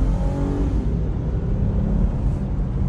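Lexus IS300 sedan with roughly 230 horsepower accelerating, a steady, close, loud engine drone and road roar with no speech over it.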